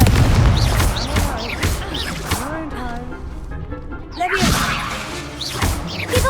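A Confringo blasting spell goes off in the Hogwarts Legacy game, heavy booms and crashes amid frantic combat effects and character shouting, loud and dense with a brief quieter gap midway.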